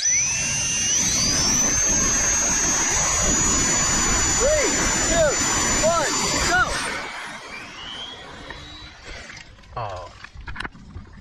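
An RC jet dragster, the Thrust Arrow, screams with a loud high turbine whine that rises sharply at the start and holds steady, then cuts off and trails away, while people talk over it.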